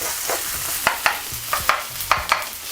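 Onions sautéing in a hot pan with a continuous close sizzle, broken by several sharp clacks and scrapes as they are stirred.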